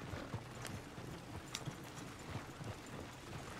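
Clip-clop of horse hooves on hard ground in Red Dead Redemption 2, outside a bar during a brawl, an uneven run of close, distinct hoof strikes over a busy ambient background.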